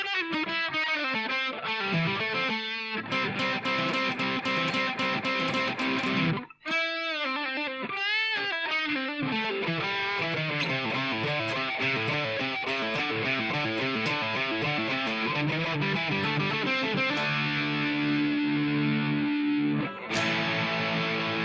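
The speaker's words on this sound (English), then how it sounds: "the final outro solo then" Distorted electric guitar playing an outro solo, fast sustained lead lines and bends running continuously and loud, with a couple of brief dropouts and no talking.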